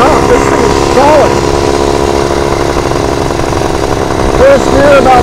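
A 1928 Scott Flying Squirrel two-stroke motorcycle runs steadily in first gear at about 25 mph while warming up, its loud continuous engine drone close and constant, with a voice faintly talking over it.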